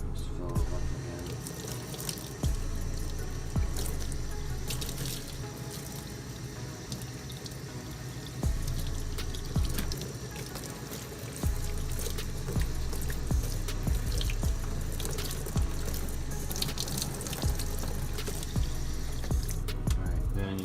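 Tap water runs steadily into a sink to refill it for cleaning a Nike KD Trey 5 basketball shoe, a loud continuous rush with small splashes and clunks, faint talk briefly underneath.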